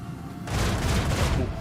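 Ship broadside cannon fire in the video game Rogue Trader erupts after a short quiet lead-in, a sustained dense rumbling volley that stays loud and steady to the end.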